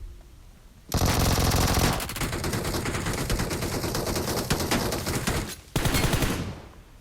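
Rapid automatic gunfire from the mobile battle royale game PUBG Mobile, loud and near, with sustained bursts and a short pause before firing resumes, no talking.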